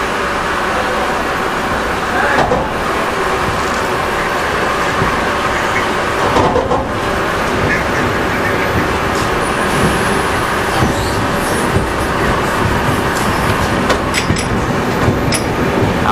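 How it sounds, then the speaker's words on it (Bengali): A passenger train leaves Gour Malda station in West Bengal, heard from on board as a loud continuous rumble and rattle of wheels and carriages with faint clicking over the rails for the whole stretch. "আমাদের ট্রেন ছেড়ে দিয়েছে।"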